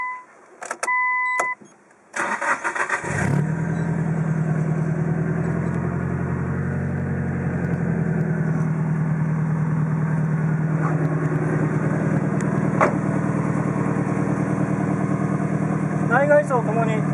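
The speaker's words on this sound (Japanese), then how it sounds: "それではエンジンをかけてみます。" A Nissan Silvia Spec R with a six-speed manual and a Trust turbo timer cranks briefly, fires up and settles into a steady, close idle, with a low engine drone holding for the rest of the clip.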